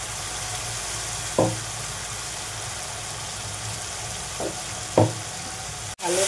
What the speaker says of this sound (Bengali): এবার এটা ভালো করে নেড়ে নেব।